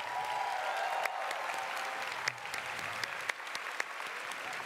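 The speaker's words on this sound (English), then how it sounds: "So, one more time, a round of applause for the volunteers." A large convention audience at QuakeCon applauds its volunteers, sustained dense clapping from a big crowd throughout with a few louder claps standing out.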